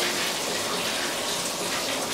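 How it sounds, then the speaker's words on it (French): A shower in an apartment runs with strong water pressure, a loud continuous rushing spray that holds steady throughout, with no talking. "je vais essayer de voir si on est capable d'ouvrir la douche en haut, qu'est-ce que ça va donner"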